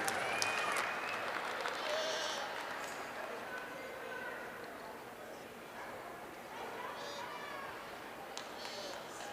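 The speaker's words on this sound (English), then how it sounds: "Let's give them one more round of applause for their efforts" Audience applause fills a livestock show arena at the Weber County Fair, a steady, fairly distant wash of clapping with animal calls and talk mixed in.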